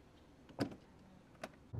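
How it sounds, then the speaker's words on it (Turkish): Boot lid of a 2023 Peugeot 408 closing, with a couple of soft mechanical clunks and latch clicks spaced apart, moderately near and fairly quiet. "O zaman bagajı kapatalım ve sürüşe devam edelim"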